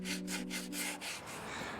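Sandpaper scrubs across a wooden tabletop in steady back-and-forth strokes, about four or five rhythmic rasping passes close by, alone with no voices.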